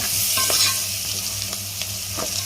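Onion frying in a pan for a village-style Andhra red sorrel shrimp curry, with a continuous bright sizzle and periodic scraping strokes of a spoon stirring through it, close and steady.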